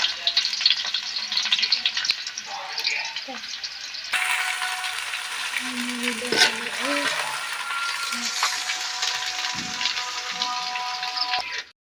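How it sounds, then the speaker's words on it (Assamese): Chopped onion and panch phoron spices frying in hot oil give off a loud, steady, crackling sizzle throughout, with a faint voice murmuring briefly beneath it. "মই পিঁয়াজ আৰু পাঁচফোৰণ দি দিলোঁ।"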